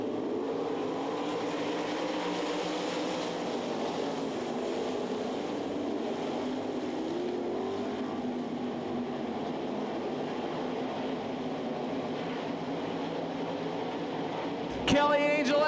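Sprint cars from the O'Reilly Auto Parts 360 class racing a heat at the Knoxville Nationals dirt track, a steady loud engine roar of the field filling the air, with an announcer calling the race throughout.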